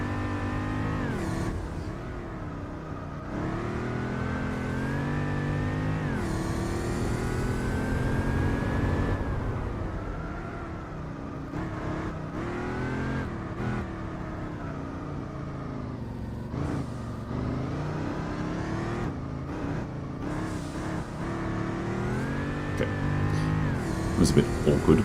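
Racing cars, among them an Audi, roar through a race in the video game Gran Turismo 4, their steady engine whine climbing and falling with each gear change while people talk over it throughout.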